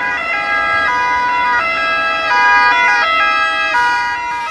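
A loud ambulance siren wailing close by at a road accident scene in Rome, its two-tone pitch alternating in a steady repeating pattern, with road noise underneath.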